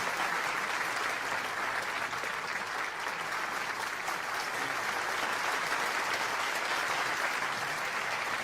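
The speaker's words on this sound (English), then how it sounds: "let us give another big round of applause to the representatives who have read the special offering to heaven" A large crowd claps steadily at a peace rally in Korea, a dense, even wash of applause that holds throughout without pause.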